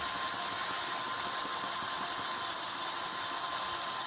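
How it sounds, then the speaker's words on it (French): A drill fitted with a right-angle attachment and a hex-shank bit bores through material in an awkward spot, giving a steady, close, loud whirring grind that holds evenly throughout. "on arrive malgré tout, effectivement, à percer"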